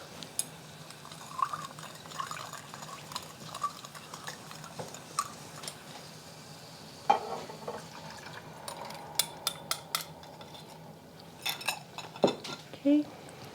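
A silicone spatula stirs tender shallots and sauce in a pan, giving soft scraping and occasional light clinks against the pan, with scattered sharper knocks near the end over a low kitchen background.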